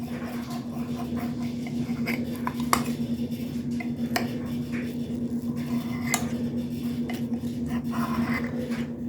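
A utensil slices French toast casserole into servings in a baking dish, giving soft, scattered taps and clinks against the dish over a steady background hum.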